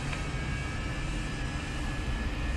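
Jet engine on a test rig with its afterburner lit, a continuous heavy roar with a low rumble and faint steady whine, unbroken throughout.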